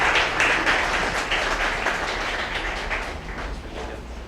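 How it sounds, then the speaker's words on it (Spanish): An award ceremony audience applauding at a Victorinox Classic Limited Edition 2017 presentation, dense steady clapping that fades slightly toward the end. "Démosle un fuerte aplauso."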